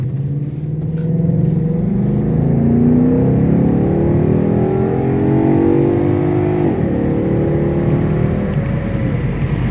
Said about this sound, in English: Can't beat the sound of that V8 though. V8 is awesome.